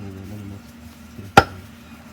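A single sharp chop of a blade through country chicken meat on a board in an outdoor village kitchen, one loud close crack after a low background hum.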